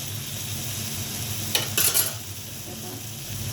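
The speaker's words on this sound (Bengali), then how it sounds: "ধুয়ে রাখা পরিষ্কার করা মাংসগুলি দিচ্ছি" Washed, cleaned beef meat dropped into a hot pan with spices for a Sylheti hatkora beef curry, a brief loud burst of sizzling and stirring partway through over a steady low background hiss.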